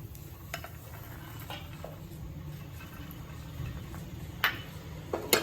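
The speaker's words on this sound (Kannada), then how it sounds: "ಕಡಲೆ ಬೀಜ ಹುರ್ಕೊಂತಾ ಇದ್ದೀನಿ. ಇದನ್ನ ಈಗ ಡ್ರೈ ರೋಸ್ಟ್ ಮಾಡ್ಕೋಬೇಕು." Peanuts dry roasting in a pan, stirred with a faint scraping rustle and a few light clinks of a utensil against the metal, with no talk.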